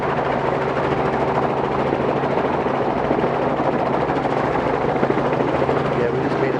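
A helicopter grounded at an airport after a maintenance check flight with engine trouble gives a loud, steady turbine whine and rotor roar close by, with a low hum underneath.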